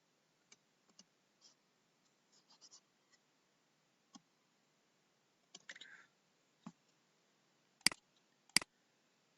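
Scattered light keyboard clicks while an email address is typed in during site registration, irregular soft taps with a few pauses and two sharper, louder keystrokes near the end, close and quiet with no talking.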